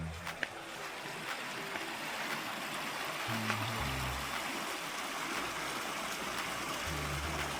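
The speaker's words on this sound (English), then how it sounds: "check out the little creek behind here" A small creek running through a town, heard as steady broadband water rush filling the scene at a constant level, with faint low rumbles from passing traffic or an engine nearby.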